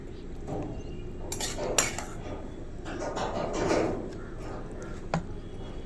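A spoon scrapes and clinks against a metal tiffin box as cooked Maggi noodles are scooped in, giving a few sharp taps and softer scraping, fairly close and quiet.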